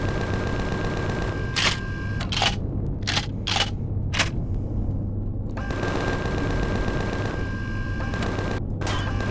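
Rapid automatic gunfire from enemy ships in the space game Empyrion, loud and sustained in long rattling bursts with sharp single shots in between, no talking.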